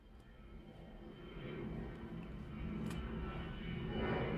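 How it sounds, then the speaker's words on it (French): An airplane passes overhead near an airport, a steady low rumble of engine noise that slowly swells louder over several seconds, with no voices. "Désolée encore pour l'avion. Je suis pas loin d'un aéroport."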